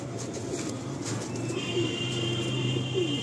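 Low, repeated cooing from a pigeon in a loft, fairly close and steady, over a faint continuous background hum.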